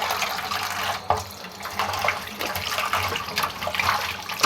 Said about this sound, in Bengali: দেখুন, কই মাছগুলো আমি ভালো করে ধুয়ে নিচ্ছি।